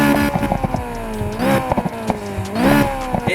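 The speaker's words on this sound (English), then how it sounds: "we'll just sort of give you a bit of a sound clip so you can hear what this car sounds like" A supercharged Honda S2000 in the racing game Need for Speed Heat revs loudly and close, its engine note rising and falling through repeated sweeps, with sharp gear changes and throttle blips breaking up the steady roar.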